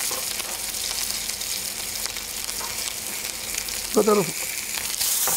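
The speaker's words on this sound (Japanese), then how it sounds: "こっち側の側も焼き色つけます" Steak searing in a curved frying pan, a steady broadband sizzle running throughout at close range, with a brief voice and a clink of handling near the end.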